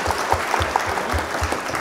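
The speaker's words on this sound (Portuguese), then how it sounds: "Uma salva de palmas, Flávio, para Daniele Garcia." An audience claps steadily through a short burst of applause at a spoken event, a dense, even patter of many hands with no voices on top.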